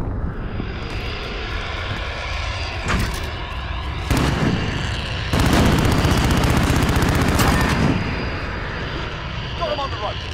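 MP7 gunfire in an online video game match, bursts of rapid automatic shots in several loud clusters against a constant engine-like drone, with players talking over the action.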